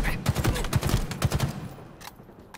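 Rapid bursts of gunfire in the video game Halo Infinite, loud and close, firing in quick clusters before tapering into quieter gaps near the end.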